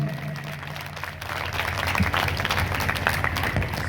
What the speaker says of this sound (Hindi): ज़ोरदार तालियाँ हमारे तमाम वालिदैन के लिए